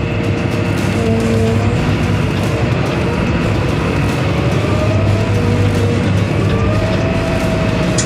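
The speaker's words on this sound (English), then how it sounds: "another really cool feature of this machine is you can drive this thing backwards" A Huddig backhoe loader runs in reverse, its engine giving a loud, steady drone with a low rumble and a mechanical whine, and no pauses from start to end.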